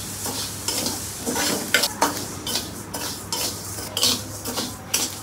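Raw rice is dry-fried without oil in a pan, stirred with repeated scraping, rustling strokes at an uneven rhythm. The sounds are close and clear with no speech.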